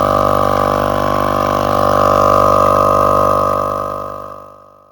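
An RV engine idles steadily after being started, a loud, even mechanical hum with a constant low drone throughout that fades away near the end, with no talking.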